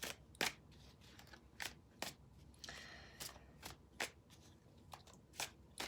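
Tarot cards are drawn and handled close up, with a series of soft, crisp snaps and slides spaced irregularly over several seconds and a brief longer shuffle in the middle, quiet and without talking.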